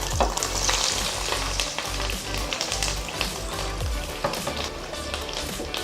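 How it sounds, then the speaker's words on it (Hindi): Green pepper kababs filled with chicken and potatoes fry in hot oil over a medium flame, in more oil than a shallow fry. The sizzle is loud, close and continuous, with taps and stirring knocks and no talking. "तेल अच्छा गरम हो गया है, मैं इसमें डाल रही हूँ"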